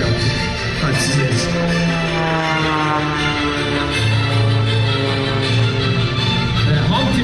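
A propeller aerobatic airplane performing an air show maneuver roars steadily and loudly, its engine pitch shifting as it speeds up. The sound stays continuous with no voices.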